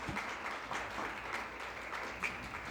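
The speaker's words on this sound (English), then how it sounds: "So please give them a round of applause." Faint, distant applause from an audience at a community conversation event, a steady wash of clapping for a group of panelists, continuing evenly throughout at low volume.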